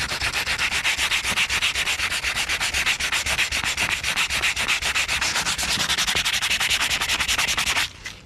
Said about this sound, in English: Sandpaper any rough edges down.